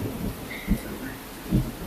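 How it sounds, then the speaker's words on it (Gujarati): Thunder during the first monsoon rain in Jasdan: two low, heavy rumbling thumps about a second apart roll over a steady wash of rainfall, fairly distant and muffled. "બાકી કડાકા ભડાકા થાય છે"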